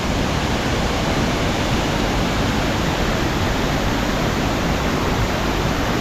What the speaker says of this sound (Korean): 출근길에 봤던 이단 폭포 퇴근길에 한 번 더 보여드립니다